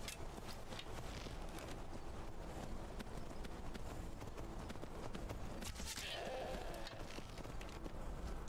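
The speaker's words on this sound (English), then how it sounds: "There's two goats." Goats bleat in the game Skyrim against a dense, continuous bed of clopping footsteps and outdoor ambience, the calls blending into the busy noise, with a brief rise around the middle.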